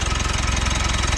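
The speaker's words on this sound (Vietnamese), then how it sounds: "Vâng, và đây là tiếng động cơ của chiếc xe." A 2018 Mitsubishi Triton's 2.5-litre diesel engine idling, a steady, close, even low rhythmic chug with no change in speed.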